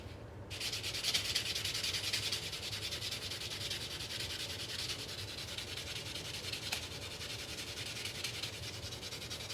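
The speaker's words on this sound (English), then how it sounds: "I'm gonna go ahead and sand it a little bit more, I think." Sandpaper rubs steadily against a Walking Liberty silver coin ring, a continuous close scratchy rasp with slight rhythmic variation, heard alone with no voices.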